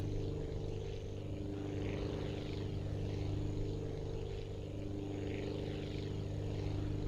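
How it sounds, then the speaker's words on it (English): Propeller airplane in the video game Aviassembly straining to lift off, a steady droning engine hum with layered harmonic tones, loud and constant throughout with no talk over it. "Come on, airplane. You're supposed to fly."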